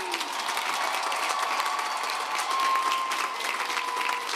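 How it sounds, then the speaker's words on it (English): Steady applause from a commencement audience cheering graduates at a May 2024 graduate and professional ceremony, dense, even clapping sustained throughout at moderate level. "You may now join me in applauding all of our graduates."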